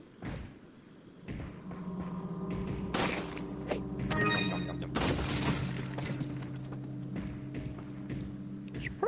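Gunfire in the VR game Resident Evil 4, with sharp broadband shots standing out over a steady game soundscape and a voice talking through it.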